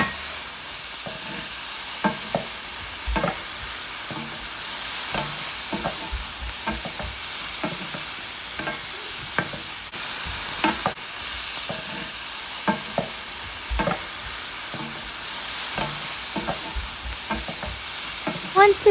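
Luffa and cooked shrimp stir-fried in a hot pan for a luffa and egg dish, with a steady close sizzle and repeated scraping spatula strokes throughout, no talking.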